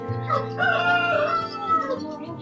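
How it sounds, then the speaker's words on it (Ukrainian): A rooster crows loudly and close by, one long drawn-out call with some clucking underneath. "Півень не дає говорити, так розкричався"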